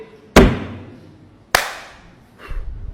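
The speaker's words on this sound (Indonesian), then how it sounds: "Tepuk sekali" Hands patting on dust for tayammum, two sharp, close slaps about a second apart, followed by a softer brushing rustle.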